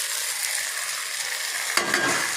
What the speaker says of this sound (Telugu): టమోటాలు వేసేస్తున్నాను చూడండి.